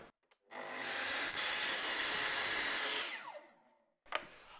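A saw blade cuts through a wooden board for stair cladding, a single continuous rasping cut of about three seconds, loud and close, followed by a short knock as the piece comes free.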